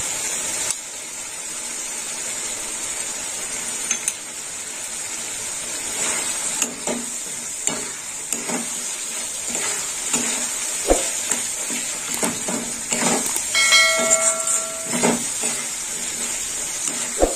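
Two spoonfuls of poppy seed paste sizzle and fry in a pan where mustard paste has nearly dried, with a steady hiss and repeated scraping stirs and clinks of the spoon throughout, close and continuous.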